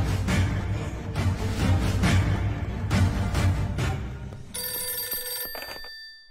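A telephone bell rings in repeated bursts, loud and close, over a dense music bed, ending in a fading electronic tone.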